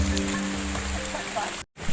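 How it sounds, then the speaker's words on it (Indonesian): Steady rain falls on a mountain trail along the Panderman route up Gunung Buthak, a broad continuous hiss that briefly cuts out near the end. "Hujan masih turun"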